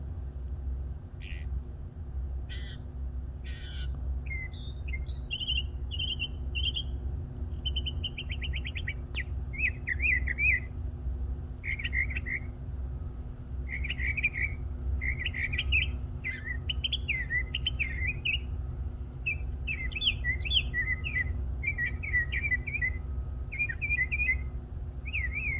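Two songbirds sing outdoors in a lively, continuous series of chirps, trills and whistled phrases, fairly close and clear over a steady low rumble of background noise.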